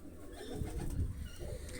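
Domestic pigeons kept for flying coo softly in low, rolling murmurs, continuous and fairly close, with a steady background noise and no talking.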